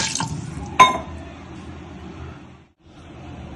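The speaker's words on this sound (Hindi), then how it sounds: "पानी ऐड करेंगे।" Water poured into a pan of minced meat and potato curry gives a short splashing pour with a sharp clink of a vessel, then a quiet liquid hiss that briefly cuts out before resuming.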